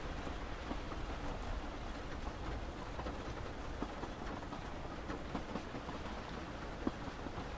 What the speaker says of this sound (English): the rain lessens and the skies shine brighter